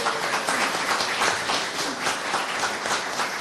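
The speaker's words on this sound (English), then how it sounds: "Please join me in giving them a warm round of applause" An audience at a community debate gives the moderators a warm round of applause. Dense, steady clapping from many hands fills the room throughout, with no voices on top.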